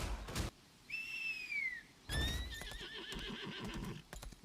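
A horse in the video game Lost Ark whinnies twice in high, wavering calls, separated by a short gap, with hoof-like thumps around them and no talking.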